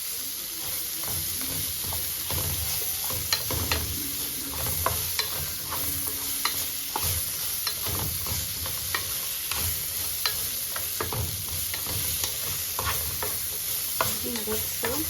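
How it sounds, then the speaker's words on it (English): Green beans sizzle in a pan while a utensil stirs them, with repeated scraping strokes and light clinks over a continuous soft frying hiss, close and moderately quiet. "I'm continuing to stir to turn the green beans"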